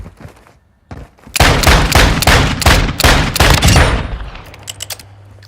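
Akimbo pistols fire in Call of Duty Warzone DMZ: a loud, rapid burst of close gunshots lasting a few seconds, then fading into scattered shell and impact clinks.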